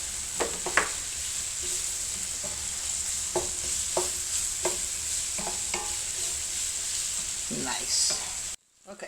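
Onions frying with meat in a pot for Irish stew, a steady sizzle broken by repeated clacking stirs of a utensil against the pot, close and clear, ending abruptly in a cut.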